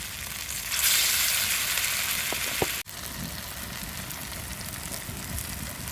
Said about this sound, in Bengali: হয়ে গেল কলার মোচার বড়া ভাজা